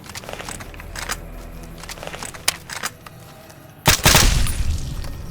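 Shots from a gun in Fallout New Vegas, a few sparse clicks and reports followed by one loud close blast near the end.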